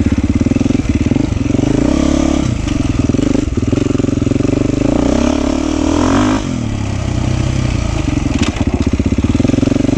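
A 2024 Beta 390 Race Edition dirt bike is being ridden, its loud engine droning steadily throughout with rising and falling revs, gear-change dips and occasional clatter, close and dominant with no talk.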